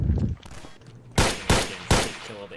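Gunfire in the video game Rainbow Six Siege comes as three sharp, loud shots about a third to half a second apart, after a stretch of quieter game sound.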